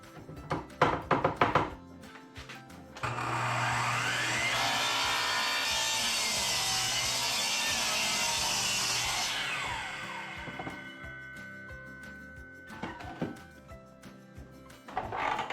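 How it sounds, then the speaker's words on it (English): Wood is cut into shelf legs with a power saw, a sustained loud whining cut lasting several seconds, framed by clunks and handling knocks before and after. "So I'll cut those now too while I'm here."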